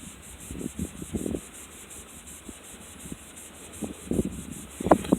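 Meguiar's fine cut cleaner being worked into car paint in an abrasive polishing test, heard as soft, intermittent rubbing strokes, close and fairly quiet, with brief scuffing bursts.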